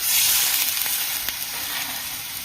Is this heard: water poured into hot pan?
yes